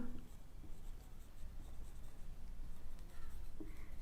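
Marker or chalk writing on a classroom board during a computer science lesson, a steady scratchy stroking sound that runs continuously and fairly close, with no talk over it.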